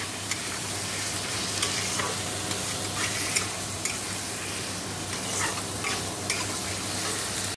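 Spice paste and potatoes sautéing for a rohu fish curry, a continuous sizzle with repeated sharp scrapes and clinks of a stirring spoon against the pan, no talk.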